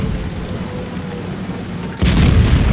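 Near, loud boom at about the two-second mark as a StuG III B tank destroyer's cannon fires in a tank combat video game, sharply lifting a steady rumbling battle background with no talk.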